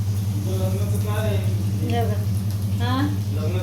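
Onion frying in hot oil gives a steady sizzle running under a voice that speaks throughout, with a constant low hum beneath both.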